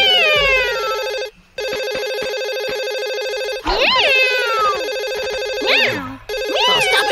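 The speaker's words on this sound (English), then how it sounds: "I can hear the phone." A cartoon telephone rings repeatedly with bright warbling tones, loud and close, in bursts separated by short gaps.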